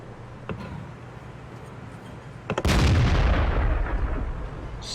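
Centurion Mk. 7/1 tank firing its main gun in a tank battle video game, a loud cannon blast that rolls into a long, rumbling decay, preceded by faint distant thuds and small clicks.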